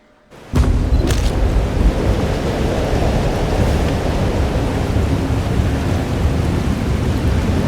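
Heavy rain in the video game Life is Strange: Double Exposure starts abruptly after a brief quiet moment, then pours as a loud, steady roaring wash with a low rumble beneath.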